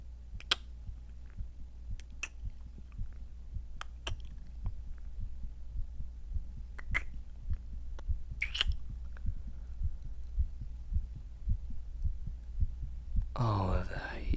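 A rapid, steady heartbeat thumps low and close in an intimate vampire roleplay setting, the soft regular pulses running throughout beneath faint hum, with a few scattered clicks and a brief rustle near the end.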